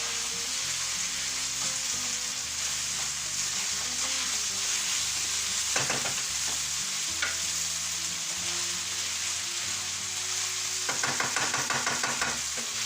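Saffron paella-style rice sizzling steadily in a pan, with a couple of scraping bursts as it is turned with a utensil; no voices.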